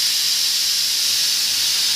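Steam vents from a pressure cooker used for tomato pappu in a strong, unbroken hiss, loud and close, with no one speaking.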